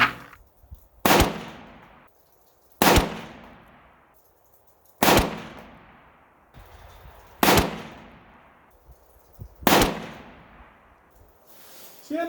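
A PSA 6.5 Grendel rifle fires five single shots at an outdoor range, each a loud, sharp report with a long decaying echo, spaced about two seconds apart.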